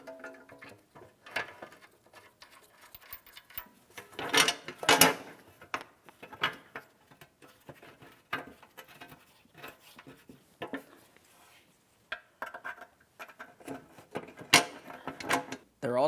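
Hand-threading 15mm headed mounting bolts into a shield on a 2007-2014 GMC Sierra 2500 HD truck, with sporadic metallic clicks, ratchety ticks and scraping in irregular bursts, close and moderately loud, without voices.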